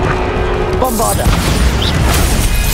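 A Bombarda spell in Hogwarts Legacy lands as a loud booming blast with crackling debris, over combat noise and a shouted voice.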